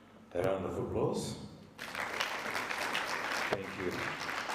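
A conference audience at a local economic development innovation event breaks into a round of applause, moderately quiet and sustained for a few seconds, right after a brief stretch of talking.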